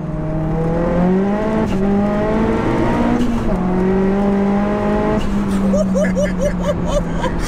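Big-turbo, fully forged 480bhp Seat Leon Cupra R pulling hard with wheelspin through the gears, engine note rising and dropping between shifts, with turbo whooshes and flutter near the end, people talking over it inside the car.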